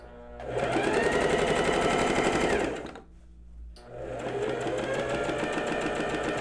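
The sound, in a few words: sewing machine stitching a blouse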